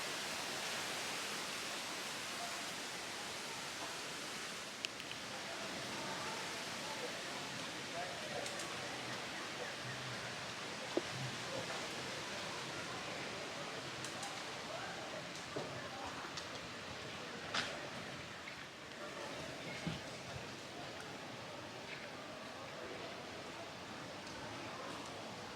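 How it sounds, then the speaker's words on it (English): Steady rain with a light breeze at a campsite, an even hiss of falling drops with occasional faint taps and knocks, soft and continuous throughout. "There is something really calming about the breeze and the rain."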